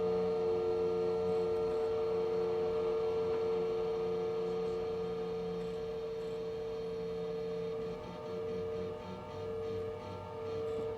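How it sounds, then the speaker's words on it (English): Hydraulic pumps on a New Shepard rocket spin up on the launch pad, a steady layered mechanical hum and whine with tonal bands that holds throughout, wavering slightly near the end. "The noises you hear are the hydraulic pumps spinning up"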